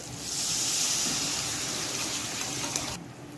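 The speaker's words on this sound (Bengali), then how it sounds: "মশলা থেকে তেল বেরিয়ে এসছে তো আমি এবার জলটা দিয়ে দিচ্ছি" Water poured into a pan of fried spices and oil, a steady, fairly loud gushing pour lasting about three seconds before stopping abruptly.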